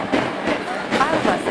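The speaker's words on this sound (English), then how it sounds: "so we're taking the local train" A local train in India rattles along steadily, a continuous rumbling clatter of wagons on rails with a faint squeal near the end, with voices mixed into the noise.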